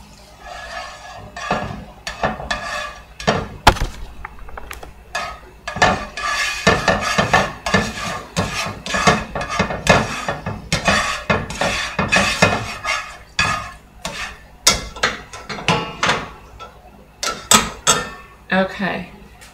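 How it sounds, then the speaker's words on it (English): Butter is pushed around a pan with metal utensils, making busy clattering scrapes, taps and clinks of cookware throughout, close and fairly loud, with occasional talk. "Get the butter moving around."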